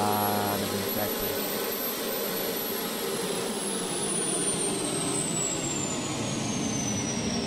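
A propeller airplane flies overhead in the survival game Unturned, a loud sustained engine drone that slowly shifts in pitch as it passes, with a game tone fading out at the start.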